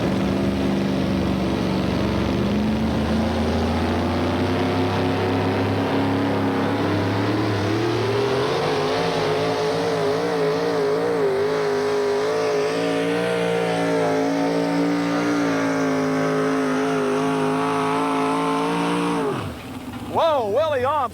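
The Enforcer, a 4WD pulling truck, roars down the track at the 1995 National Tractor Pulling Championships in Bowling Green, Ohio, its engine droning loud and steady for about twenty seconds, rising in pitch as it pulls, before cutting off abruptly.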